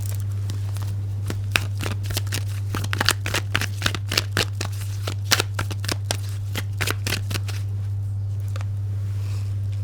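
A deck of tarot cards is shuffled close up, giving a rapid series of crisp riffling snaps and flutters over a constant low electrical hum, before fading to quiet at the end.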